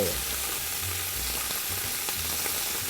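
Pork pieces for a mustard pork sauté sizzle steadily in a hot pan, a constant broadband frying hiss with faint low rumbles, close and continuous with no voices.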